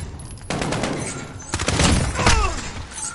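Gunfire from a PS4 first-person shooter, with several loud close bursts and broadband impacts spread over a few seconds, plus a grenade blast in the mix, with no talk over it.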